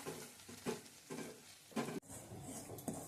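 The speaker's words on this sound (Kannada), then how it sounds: "ಈಗ ಇದಕ್ಕೆ ರವೆ ಹಾಕೋಬೇಕು, ಹುರ್ಕೋಬೇಕು. ಸ್ವಲ್ಪ ಬಣ್ಣ ತಿರುಗೋ ಹಾಗೆ ಹುರ್ಕೋಬೇಕು" Chiroti semolina being stirred and roasted in butter in a pan, with repeated scraping strokes of a spoon against the metal over a soft sizzle, fairly quiet and with no talking.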